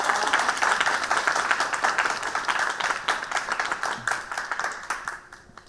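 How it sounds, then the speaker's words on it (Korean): An award-ceremony audience claps for student video entries in a UCC contest: dense, steady applause from a hall crowd that thins and fades out over the last second. "여러분께서 더 기특하다는 의미로 박수 보내주시기 바랍니다"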